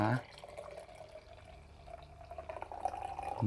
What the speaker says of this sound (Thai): เทน้ำเปล่าลงไปนะคะ